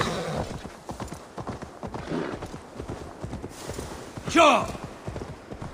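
Horse hooves clip-clop at a steady gait in Assassin's Creed Valhalla, the rhythmic clopping running through the clip under game ambience and a brief spoken word, with a louder burst near the end.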